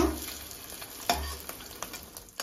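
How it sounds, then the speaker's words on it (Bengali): Fish roe coated in gram flour fries in oil in a kadai while being turned, with a soft continuous sizzle broken by a few scraping stir and flip clicks. "এবারে মাছের ডিমগুলোকে আমি উল্টিয়ে নেব"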